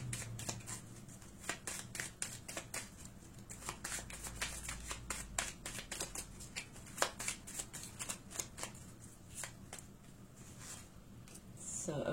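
Gypsy Witch fortune-telling cards are shuffled in a quiet room, a soft continuous riffle of flicking and sliding cards with light taps and rustles throughout.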